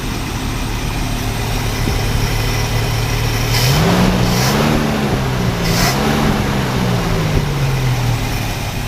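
A 1964 Lincoln Continental engine fitted with an Edelbrock 1406 carburetor idles low and steady, with a rising, wavering tone partway through as the idle shifts, a continuous loud rumble without speech.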